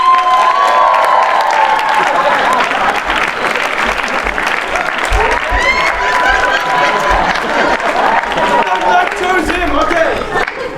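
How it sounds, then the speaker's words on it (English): Loud, prolonged applause and cheering erupt from a large crowd at a community group's 25th anniversary gathering, with steady clapping, shouts and whistles continuing without pause for about eleven seconds. "Massive round of applause for Naveen Krishna Prabhu."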